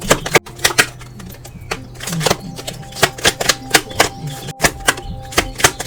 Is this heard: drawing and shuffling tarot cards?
yes